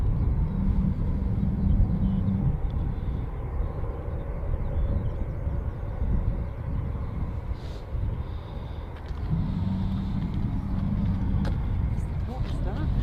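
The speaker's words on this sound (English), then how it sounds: "I can hear an engine just started." An aircraft engine spooling up at Manchester Airport, a broad, distant rumble rising and falling over ambient noise while people talk nearby.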